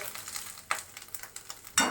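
Asafoetida hitting hot oil in a pan for a wedding-style potato curry: a soft, low sizzle with a few scraping stirs and a louder burst of frying near the end, without talk.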